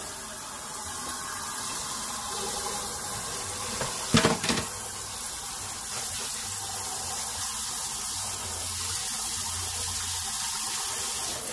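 Cold tap water runs steadily into a pot of drained pasta during lasagna making, a continuous close gushing rush with a brief metallic clatter partway through.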